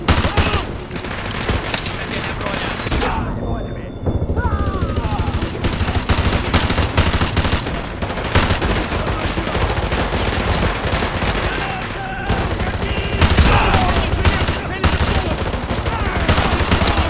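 Rapid bursts of automatic gunfire in the Call of Duty: Modern Warfare 2 Remastered mission No Russian, loud and near, firing almost continuously with brief gaps and heavy booming impacts.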